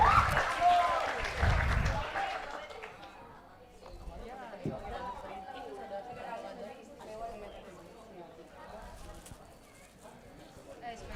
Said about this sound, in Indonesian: Tepuk tangan untuk Roy.